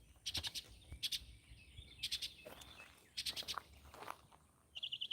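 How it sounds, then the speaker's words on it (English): Outdoor birdsong in a rural area, bursts of high chirps repeating in short trills with brief gaps, fairly faint over a soft low background rumble. "Yeah, Carl, them birds always out, man."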